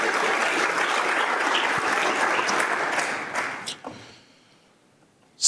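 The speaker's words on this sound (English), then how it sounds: "Can we all give them a round of applause, please?" A conference crowd at NZTestingConf 2024 claps for the event's sponsors, a dense sustained round of applause that thins out and fades near the end, followed by a brief close knock.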